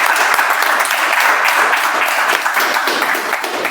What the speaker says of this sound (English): Can we have a round of applause for all the guests?